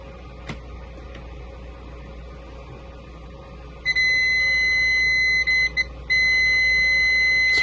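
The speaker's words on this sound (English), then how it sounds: "we got the digital voltage tester here. So, I'm going to test the continuity." A digital voltage tester sounds a loud, steady, high-pitched continuity beep that starts halfway through and holds, with two brief breaks. Before it comes quiet room noise with a few faint clicks.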